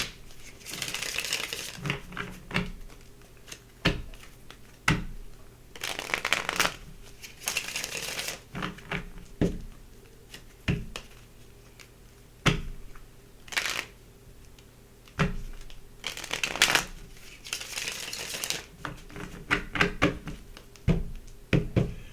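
Tarot cards being shuffled in bursts of riffling and tapping, several separate shuffles with short pauses between, close and fairly quiet, with no voice.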